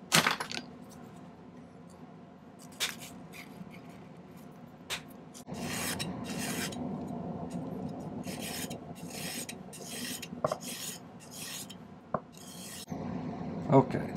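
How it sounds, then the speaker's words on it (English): Cutters snipping soldered silver parts off a domed black onyx ring in a silversmithing workshop, a scattered series of sharp metallic clicks and snaps with rasping handling noise between them, close and fairly loud. "I'm gonna go ahead and snip off the bottom parts."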